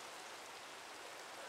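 Steady rain pours in a blocky survival sandbox game, a dense, even hiss of falling drops with no break or rhythm, filling the scene close and continuous with no voices.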